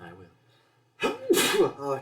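A person gives a sudden, loud sneeze after a short pause, then a second burst follows, with brief speech just before and after.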